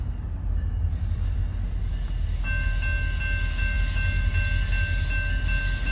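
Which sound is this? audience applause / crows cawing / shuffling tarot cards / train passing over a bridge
train passing over a bridge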